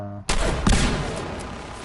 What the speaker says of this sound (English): some of the explosions are landing right around him, and he's taking 0 damage from that